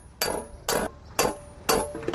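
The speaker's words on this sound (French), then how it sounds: "qui consiste à coucher le flanc sur le tas avec un marteau" A hammer beats sheet metal on a stake in coppersmithing work, four sharp, ringing metallic strikes at a steady, unhurried rhythm, close and loud with a brief decay after each blow.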